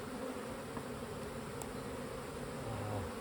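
Honey bees hum in an open hive during an inspection and split, a dense continuous drone of many bees with a faint tap or two and no voices.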